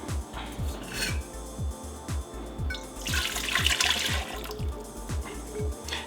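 Warm liquid, heated to about 120 degrees, is poured into a mixing bowl for sandwich bread, with a broad wash of splashing midway over a steady run of soft low thumps.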